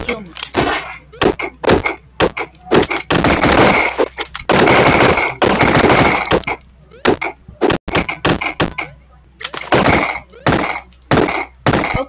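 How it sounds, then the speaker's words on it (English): Rapid bursts of assault rifle gunfire in the Superfighters video game, loud and dense repeated shots in clusters with impact thunks, interrupted by brief gaps. "let me take that assault rifle. Don't shoot! You might kill me."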